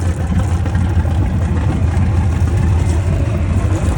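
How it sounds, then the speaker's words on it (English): A 1986 Sea Ray Pachanga with a 454 engine idles steadily while warming up, a dense low rumble holding even and continuous throughout with no voices over it. "Engine's warming up, getting all that lake water out right now and taking in fresh water"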